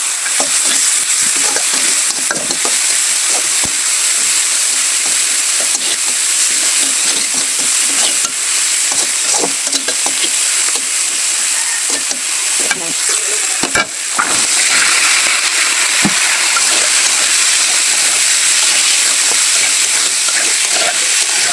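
Tomatoes go into a hot pan of winter vegetables for pasta, raising a loud, steady sizzle with frequent stirring scrapes throughout, no voices over it.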